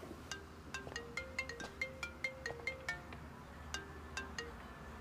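Melodic phone ringtone of an incoming call, a bright sequence of plucked electronic notes in a repeating tune, moderately loud and alone.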